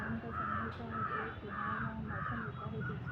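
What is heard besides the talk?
birds calling in an evening garden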